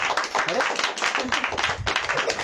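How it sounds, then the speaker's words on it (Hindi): A church congregation claps in quick, uneven bursts for a couple of seconds, close and moderately loud, with a voice faintly present underneath. "ताली नहीं बजाया आपने?"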